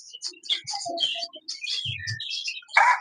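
Fawn Java sparrows kept as cage birds give a quick run of close, bright chirps and twittering notes, with a couple of low soft coos mixed in and a sharper call at the end.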